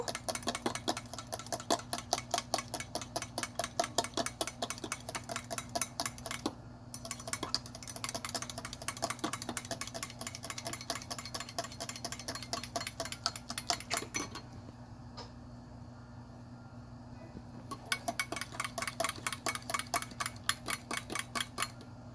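A spoon stirs hot chocolate into warm water in a cup, ticking against the sides in quick, even clinks that run on with a couple of short pauses, close and quiet.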